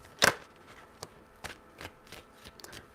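Tarot cards are shuffled by hand, one sharp riffle followed by a string of softer, irregular card slaps and flicks, close and quiet with no voices.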